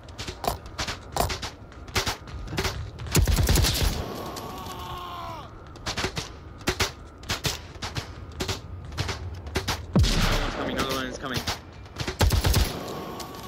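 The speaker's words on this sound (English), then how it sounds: "He's firing like through the concrete and it's annoying" Rapid bursts of automatic gunfire in a multiplayer shooter game as an enemy fires through concrete, loud repeated volleys with short pauses between them, and voices talking over the shots.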